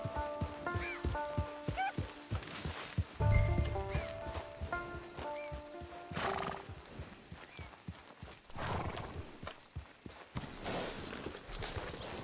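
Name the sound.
horse walking, from a video game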